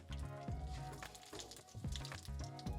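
Chopped onion hits hot oil with curry leaves and dry chili for tindora (ivy gourd) thoran with coconut, giving a steady close sizzle that flares in several bursts as it is stirred, with no talk.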